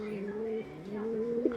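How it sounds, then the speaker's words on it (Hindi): Pet pigeons cooing in a rural Indian home, a few soft, low, throaty coos close by, with a short burst near the end. "हमारे भाई को कबूतर का बहुत ही ज्यादा शौक है"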